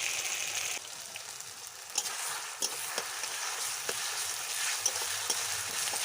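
Garlic and ginger paste sizzling and frying in hot oil, a steady close crackle with a few stirring scrapes and clicks, no voices.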